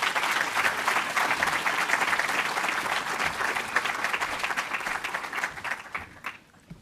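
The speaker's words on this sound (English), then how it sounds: "Let's give them a warm applause." Audience applause at an evening free speech lecture, a dense steady clapping from a large room that holds strong for several seconds before tapering off at the end.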